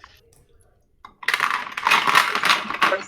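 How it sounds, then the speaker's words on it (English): Dice tumbling and clattering across a hard surface in a quick burst of rattling clicks after a near-silent start, close by. "dice noises"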